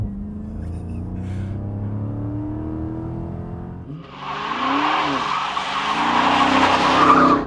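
A 2023 Chrysler 300C SRT 6.4 Hemi V8 idles low, then launches with a rising engine roar and tire squeal as traction control cuts in, loud and close.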